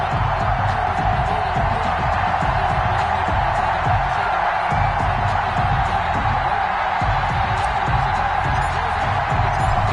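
A football stadium crowd in an EA Sports game, New Orleans Saints against Carolina Panthers, roars in a constant dense wash of cheering, steady and loud throughout.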